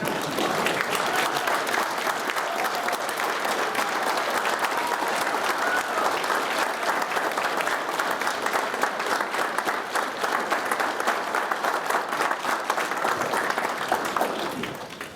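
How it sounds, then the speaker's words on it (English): An audience at a Wreaths Across America veterans event gives a sustained round of applause for standing veterans: dense, steady clapping from many hands that holds evenly for about fifteen seconds. "Let's all give them a round of applause"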